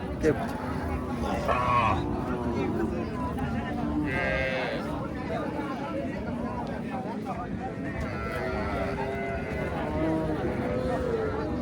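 Cattle low and calves bleat nearby amid a busy crowd at a livestock market selling Sahiwal cows, with people talking loudly over the animals throughout.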